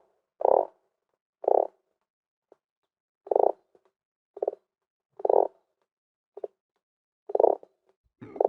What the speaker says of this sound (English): I'm composing a frog symphony.